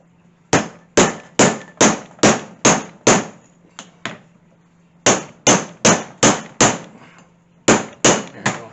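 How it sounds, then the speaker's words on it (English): A snow plow pulley for a CFMoto UForce 1000 winch is hammered into place with sharp, loud metallic blows close by. The strikes come in quick rhythmic runs of about six, separated by short pauses, and no one talks. "Maybe I should just keep pounding then."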